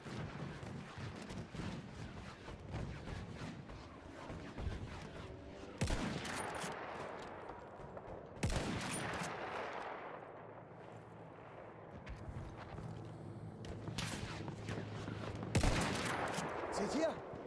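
Russian 1895 rifle shots in the video game Battlefield 1, a few sharp sparse cracks over quiet ambient battle noise, fairly faint.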